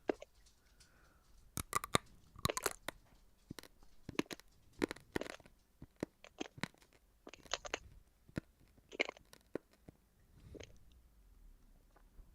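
Someone bites and chews dry, uncooked spaghetti, giving a string of sharp, close crunches and snaps in irregular bursts, with quieter chewing between them.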